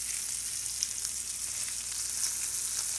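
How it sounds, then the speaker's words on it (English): Yellowtail snapper fries in hot oil in a cast iron skillet, giving a dense, even hiss and crackle that holds steady and close for a few seconds, with no voices over it. "Good cast iron skillet is perfect for cooking fish."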